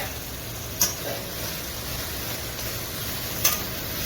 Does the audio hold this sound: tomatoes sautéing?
yes